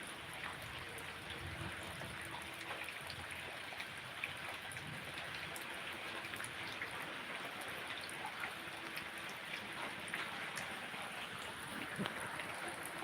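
Steady rain falling during a thunderstorm in Kerala, a continuous even hiss of drops on surfaces that holds at the same level throughout, with no talk.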